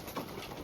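Racing pigeons coo softly in a loft, a brief low murmuring call close to the microphone.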